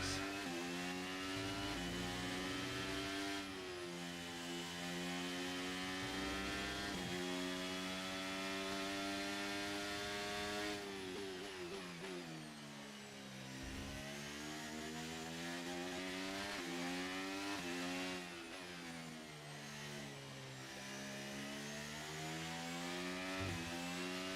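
F1 car engine from the F1 23 video game, racing at Barcelona, droning continuously with strong harmonic whine that rises and falls through gear changes and lift-offs, loud and steady with no talking.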